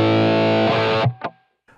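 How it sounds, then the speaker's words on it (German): Electric guitar run through a Line 6 Pod GO with a Tube Screamer overdrive, gain down and level up, rings out as one sustained distorted chord for about a second, then a couple of short muted stabs before it goes quiet. "Amp etwas anfeuern möchte, dann wähle ich mir ein Tube Screamer."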